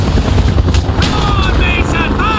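A helicopter in Call of Duty: Black Ops, Vorkuta mission, thrums loudly and continuously, mixed with bursts of gunfire and electronic game effects.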